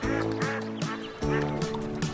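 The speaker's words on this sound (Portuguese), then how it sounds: "uma família de patos brincava na margem do lago" A group of ducks quacks at the edge of a lake, with repeated loud nasal calls sounding close by over a steady background.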